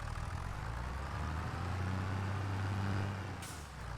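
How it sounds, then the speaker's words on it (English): A tractor in Farming Simulator 25 pushes branches, giving a steady, loud low engine rumble with a droning hum that holds throughout and a brief hiss near the end. "see if I can just push it a little bit using the tractor"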